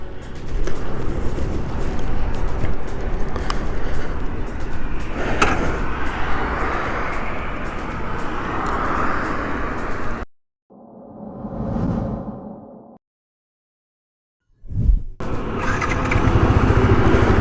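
Yamaha R15 V3 motorcycle, a 2019 BS4 model, cruising on the Bangalore–Chennai highway, with a loud steady rush of engine and wind noise that cuts out briefly midway, then a short swelling passage before the roar resumes.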